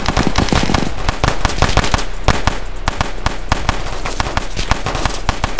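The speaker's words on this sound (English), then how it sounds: "I'm missing every shot with this Draco, bro." Rapid Draco gunfire in the Roblox game Chicago Wars, a loud dense string of sharp cracks in quick bursts that keeps going the whole time, close and dominant, with no talking over it.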